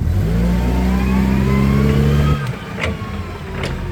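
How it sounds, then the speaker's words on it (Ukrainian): A 2018 Toyota 02-8FGF25 gas-powered forklift pulling away at idle on a warehouse floor, a close, steady mid-pitched engine hum that drops and roughens partway through, with a few faint clanks. "Навантажувач на холостих обертах поїхав."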